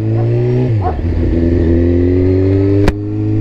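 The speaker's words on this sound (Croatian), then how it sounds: "Nema tu greške, Hondica se pali dobro." Honda CBR 600 F motorcycle engine starting and settling into a steady, loud idle, with a low droning tone that dips briefly as it catches, heard close up with no talking.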